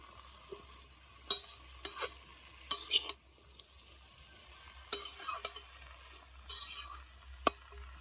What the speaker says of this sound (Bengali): তরকারিটা একবার ভালোভাবে নেড়ে নিচ্ছি